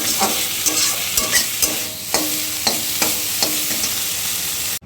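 Neem leaves frying in a pan give a steady loud sizzle, with stirring scrapes and taps of a utensil recurring throughout at close range, no voices.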